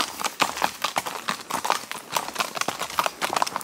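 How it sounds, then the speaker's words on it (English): A pony's hooves clip-clop in a quick, steady rhythm along a forest trail, close and clear. "I'm on my horsey"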